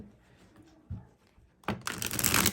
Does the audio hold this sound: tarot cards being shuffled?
yes